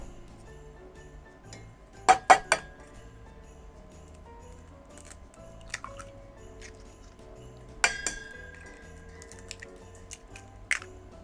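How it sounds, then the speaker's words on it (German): Eggs cracked against a mixing bowl while baking Christmas chocolate bread: a few sharp clinks and taps in quick pairs, then soft drips and squishes, close and otherwise quiet. "Als erstes nehme ich mir die Eier und schlage die in meine Schüssel rein."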